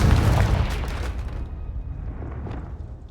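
A Confringo blasting spell in Hogwarts Legacy goes off with one loud, close boom, and a rumbling tail fades over about two seconds.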